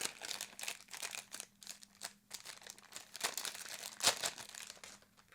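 An eraser rubs across a paper card to lift off spilled glue, making quick, soft, scratchy strokes that repeat close up throughout.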